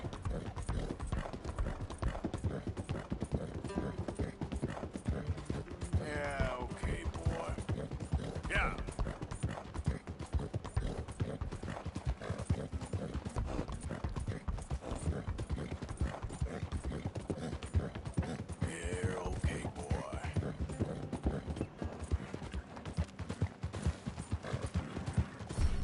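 Rhythmic hoof clip-clop of a galloping horse in Red Dead Redemption 2, steady and close throughout with occasional faint whinnies and a game soundtrack underneath.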